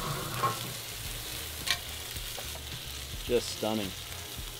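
Beer and triple cream cheese sizzle and bubble in a pan on a Kamado Joe grill while a spoon scrapes and stirs through it, close and steady, with someone talking briefly over the cooking.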